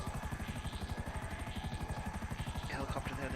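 A helicopter in GTA Online flies close by, its rotor chopping in a fast, even pulse that stays loud and steady from start to finish.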